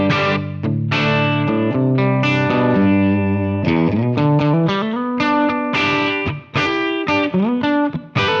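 An electric guitar with humbuckers plays through a Kemper amp using a Dr. Z profile at its second gain level. It gives a loud, driven, sustained overdriven tone with a rapid run of notes and chords, alone and without talk.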